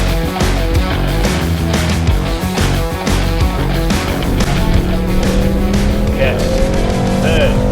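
Mercedes-AMG GT 63 S engine revving hard through gear changes, a loud, dense exhaust roar with rising and falling pitch and crackling pops, heard from inside the car with someone talking over it.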